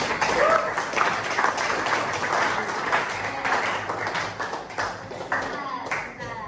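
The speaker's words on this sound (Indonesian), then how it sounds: "Kasih tepuk tangannya." Students in a classroom applauding a group presentation, a dense, continuous patter of many hands clapping at close range for several seconds, with a faint voice now and then.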